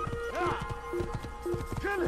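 Horse hooves clip-clop in a steady trotting rhythm in the Assassin's Creed video game, with several short whinnies and snorts rising over the footfalls, close and fairly quiet.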